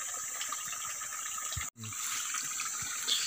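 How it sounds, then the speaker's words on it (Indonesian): River stream in Indonesia that feeds a clean water pipe, rushing steadily and fairly loud throughout, with one brief dropout near the middle. "Jadi ini aliran sungai yang kita pasangi aliran ini pipa air bersihnya John."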